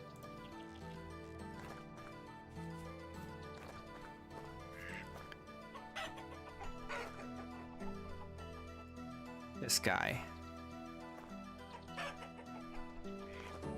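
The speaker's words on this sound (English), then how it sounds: "I've got a generation 9 rooster here." A tier 9 rooster in the video game Vintage Story gives scattered low clucks amid ambient game sounds, with someone talking over it.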